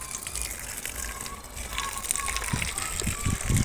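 Water gushing steadily from a hose or can onto potted plants in a rooftop home garden, a continuous close splashing flow with a few soft thumps near the end.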